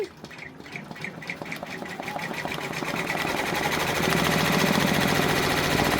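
An embroidery sewing machine stitches an outline on a freestanding quilt block, starting with slow stitches and speeding up into a fast, steady, loud mechanical chatter.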